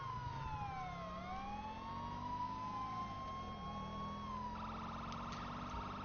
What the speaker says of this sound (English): Make sure you're holding your priority sirens when going through intersections, which is these sirens.